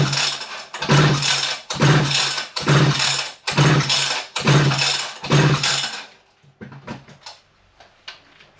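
A vintage Italian Alpina 070 two-stroke petrol chainsaw pulled over by its starter cord at full throttle with the choke open, six loud, evenly spaced rasping pulls of about a second each, then faint clicks and rattles.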